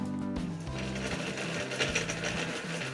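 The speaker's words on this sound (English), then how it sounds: "add 6 to 7 cloves of garlic, a little salt, and now we will grind it into a smooth paste." Mixer grinder running continuously, blending garlic cloves with salt into a smooth chutney paste; a steady close whirring motor drone with a shifting low pitch, no talking.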